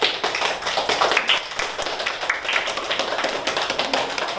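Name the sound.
clapping of hands by class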